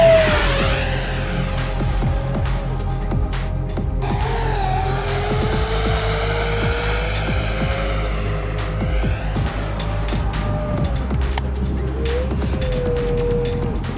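A Kavan L-39 Albatros 80mm electric ducted-fan RC jet flying overhead, its steady high whine rising and falling in pitch as it passes, loud and continuous with no speech.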